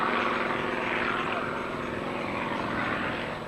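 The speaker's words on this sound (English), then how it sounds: "The style that Mark Jeffries is exhibiting in the Yak 52 is evident of his national status" A Yak-52 aerobatic propeller plane flies at an air show, producing a steady, droning engine and propeller roar that fills the whole short stretch at moderate distance.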